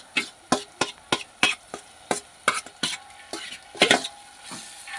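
Chilies and spice masala cook in a pan while a spatula scrapes and taps through them in about a dozen sharp, regular strokes over a soft sizzle, close and fairly loud.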